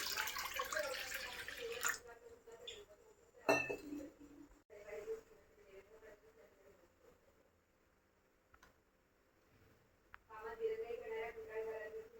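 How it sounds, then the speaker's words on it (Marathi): Water splashes into a pressure cooker for steaming rava idli, a broad rushing pour at the start and again near the end, with quieter kitchen clinks between. "पाणी टाकून घेऊयात कुकरमध्ये."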